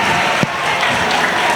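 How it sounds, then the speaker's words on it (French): An audience claps steadily at a school competition final, a dense and fairly loud patter of many hands with no speech over it. "Applaudissez-les, s'il vous plaît."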